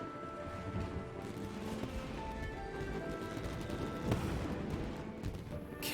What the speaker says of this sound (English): So Yoimiya, these fireworks, what do they mean to you?